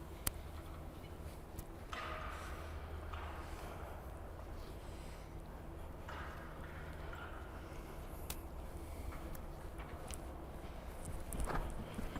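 A horse walks at a steady pace during a show-jumping coaching session, its hooves clip-clopping faintly and rhythmically against a constant low background rumble.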